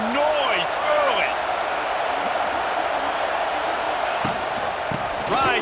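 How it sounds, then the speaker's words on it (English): Stadium crowd in College Football 26 in the rain, a dense, steady roar of many voices filling the whole stretch, with brief whistles and shouts rising above it. "This crowd bringing the energy and noise early."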